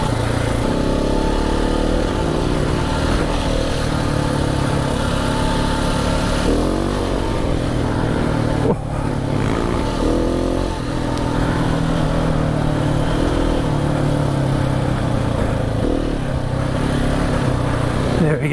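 KTM 690 Enduro single-cylinder motorcycle ridden off-road on a slippery trail, its engine droning loudly and steadily throughout with rising and falling revs, close to the rider.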